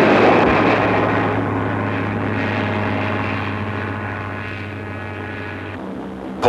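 Drone of German Luftwaffe bomber aircraft engines, a loud, steady propeller roar holding for several seconds before cutting off, with no voices over it.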